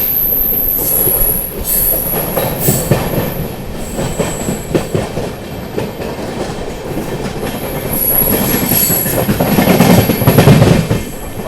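Islampur–New Delhi Magadh Express passing close by, loud rumble and clattering wheels with shrill squeals of wheels on rail, continuing throughout with no talk.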